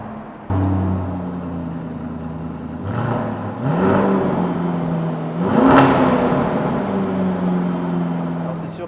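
A Lamborghini Urus V8 fires up with a push-button start, settling into a loud idle before rising through a couple of revs and dropping back, heard close and alone.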